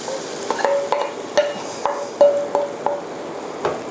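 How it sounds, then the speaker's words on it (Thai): Cream mixed with parmesan goes into hot bacon fat in a pan for spaghetti carbonara, producing a close sizzle broken by a series of rhythmic scraping and stirring strokes against the pan. "ผมจะเอาเจ้าครีมที่ผสมกับพาร์มิซานแล้วลงมันเลย"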